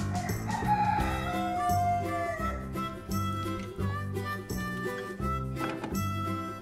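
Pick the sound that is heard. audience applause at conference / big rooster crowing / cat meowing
big rooster crowing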